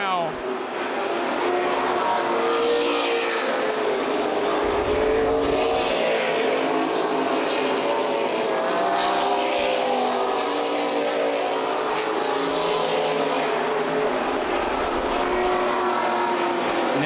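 CRA Super Series race cars roaring around the M-40 Speedway oval, engines droning and rising as the pack passes, loud and continuous, with an announcer's voice running over the racing.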